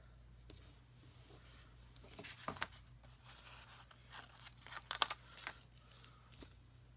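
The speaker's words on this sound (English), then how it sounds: "I think I can use my cutter to cut these." Paper being cut with a craft cutter, faint close scraping and crisp slicing strokes with a few sharper crinkles, over a low steady background hum.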